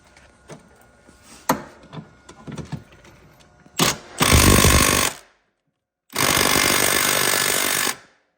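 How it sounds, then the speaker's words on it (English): A power tool, likely an impact wrench, removes the 17mm swing arm bolts on a 2017 Honda Rancher ATV: scattered clanks and handling knocks, then two loud sustained bursts of a second or two each, close up, with no talk. "Now Will's gonna take the 17mm bolts up there at the swing arm out."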